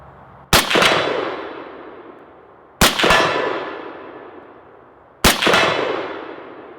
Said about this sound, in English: Shots on target all day long.